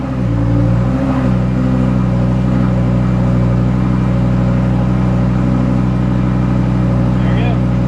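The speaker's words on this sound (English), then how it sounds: "You guys can hear my exhaust" A 2008 Lamborghini Gallardo's engine and exhaust run at a steady idle, close and loud, holding a deep, even drone with no revving throughout.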